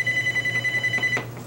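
A telephone rings with a steady electronic trill, its pulsing tone repeating quickly for over a second before cutting off, fairly close and clear over a low background hum.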